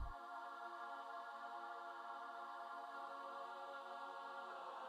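A synthesized choir patch from FL Studio's DirectWave sample banks sustains one steady chord for about five seconds, full and even in loudness, with no voices talking over it.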